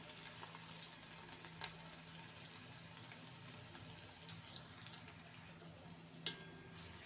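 Onion and whole curry leaves fry in a pan while cooking a Gujarati pigeon pea vegetable dish: a faint, steady sizzle with occasional soft clinks of stirring, quiet and continuous.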